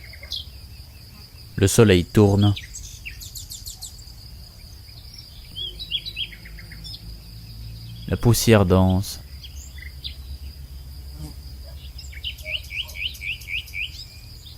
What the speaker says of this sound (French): Le poste diffuse des chants d'oiseaux.